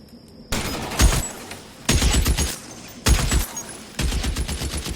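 Gunfire in the video game L.A. Noire during a shootout, loud close bursts of rapid shots in four separate volleys with short gaps between them, no talk over it.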